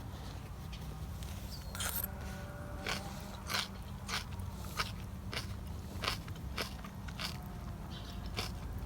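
Quiet, crisp crunches come in an irregular series as pickled miner's lettuce is chewed up close, each bite a short crackle over faint background noise.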